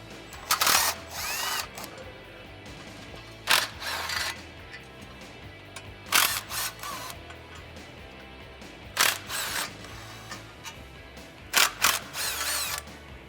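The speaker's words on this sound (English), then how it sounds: "I got a 13mm socket. We're gonna go around and remove the 6 bolts that hold the clutch into place." A ratchet with a 13mm socket removes the clutch bolts on a Ford Mustang GT in several separate bursts of rapid clicking, loud and close, with quiet pauses between them.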